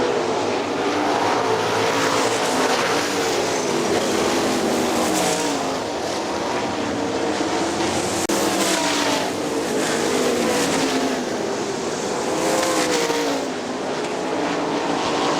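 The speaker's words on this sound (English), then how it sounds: "Dustin Daggett closing, getting in on the battle in car number 85" Sprint cars from the Great Lakes Outlaw Sprint Series race around Hartford Speedway Park, engines roaring loudly and continuously with rising and falling revs as the field battles in the closing laps.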